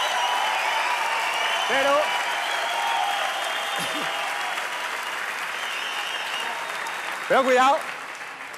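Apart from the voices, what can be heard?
audience applause at comedy show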